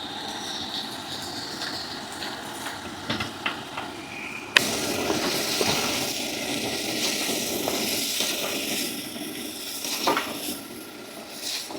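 Turkey berries and tamarind, fried in sesame oil for a pickle, pour into a hot pan and sizzle steadily with a sudden louder hiss partway through, over faint clinks of a pan and spoon.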